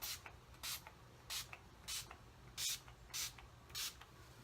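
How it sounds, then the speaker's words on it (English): Seven short, breathy bursts of a makeup setting spray bottle, evenly spaced about half a second apart, close by and fairly quiet. "had to do my setting spray"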